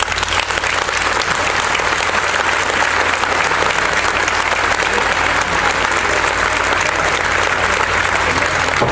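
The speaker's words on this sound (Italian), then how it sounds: "un applauso lo chiedo io." A concert audience in Guardavalle applauds, producing dense, loud clapping that stays steady and unbroken from start to finish.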